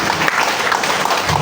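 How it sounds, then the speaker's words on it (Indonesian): A brief burst of audience applause in a seminar hall during a public forum, a dense, even clapping that runs throughout. "Tepuk tangan dong Bapak Amin."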